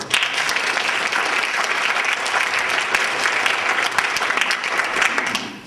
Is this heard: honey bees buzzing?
no